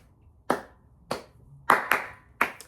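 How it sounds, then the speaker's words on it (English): Sharp hand claps from two people in a loose rhythmic pattern, single claps and quick doubles, close and clear with quiet pauses between, recorded in a small bedroom. "we made up like the clapping rhythm, and then we just started clapping"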